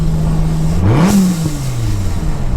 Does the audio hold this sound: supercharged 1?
yes